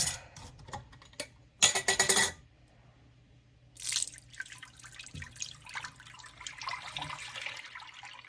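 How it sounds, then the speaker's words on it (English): Milk pours into a heavy non-iron pot for caramel sauce, with a brief splashing burst early on, then a longer trickling pour with light drips, close and fairly quiet. "The first thing we do is we're going to add our milk."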